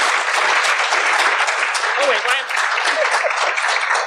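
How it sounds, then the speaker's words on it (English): Audience applause at a live community event fills the clip, a dense, loud, sustained clapping from many hands with scattered cheers, lasting throughout without pause. "please give them a round of applause"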